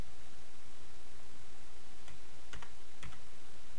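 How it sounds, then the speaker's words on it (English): A few quick keystrokes on a computer keyboard, brief clicks clustered near the end over a steady background hiss, fairly faint. "we'll just type in, say, apple right here"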